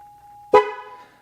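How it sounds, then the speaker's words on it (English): A car's horn gives a single short, sharp honk that marks a tire pressure sensor relearn, sounding loud and close after a faint steady tone. "And when it honks, it's ready for the next one."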